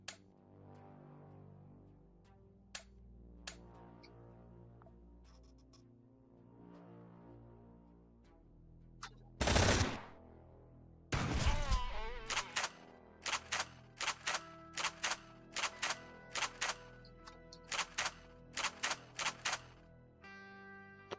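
A shotgun in the video game Quasimorph fires in a couple of loud, close blasts, followed by a rapid run of sharp mechanical clicks and clacks from reloading, with no talk.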